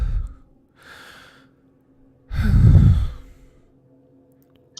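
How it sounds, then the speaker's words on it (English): Heavy breathing effect in a tabletop role-playing session: a raspy exhale, a fainter breath, then a louder, deep, drawn-out breath, each separated by silence. "The breathing again."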